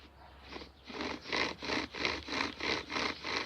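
A wooden bow drill spindle rubs back and forth against a wooden fire board, making a steady rhythmic rasping with about eight even strokes, close and moderately loud with no talking.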